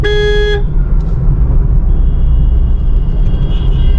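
A car horn gives one short, loud honk while driving through congested traffic, then cuts to a steady low engine and road rumble with faint distant sounds.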